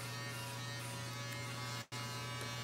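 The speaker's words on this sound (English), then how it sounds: "What is that machine? That's an electric shaver." An electric shaver buzzes in a steady, close electric drone with a strong low hum, cutting out for an instant before resuming.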